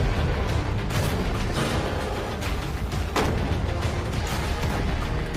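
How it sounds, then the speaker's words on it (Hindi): A shot is fired at a container holding prize money during a big-money protection challenge: a loud, dense roar of noise with one sharp crack about midway, and no voices. "पहला शॉट फायर करो।"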